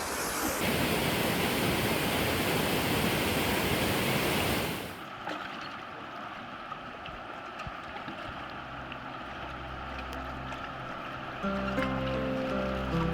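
Jungle waterfall in Thailand, a loud steady roar of falling water for about five seconds that then cuts to quieter, more distant rushing water with a low hum beneath.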